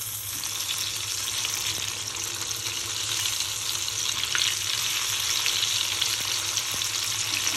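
Stuffed bombil (Bombay duck) rolls fry crisp in hot oil, giving a steady bright sizzle with occasional soft pops, close and unbroken, with no one speaking.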